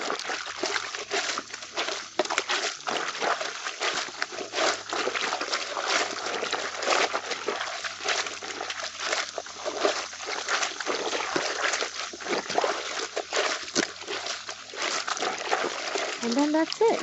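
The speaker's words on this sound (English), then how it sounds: "give it a rough wash." Colored clothes being hand washed in a basin of water, with steady sloshing, splashing and dribbling as fabric is rubbed and squeezed, continuous and close, while a person talks over it.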